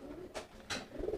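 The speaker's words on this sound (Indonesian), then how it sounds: "merpati pos, sama juga ini lagi mengerami sendiri." A homing pigeon cooing softly while brooding its eggs in a loft, two short throaty coos rising over a quiet background hum, close by and alone.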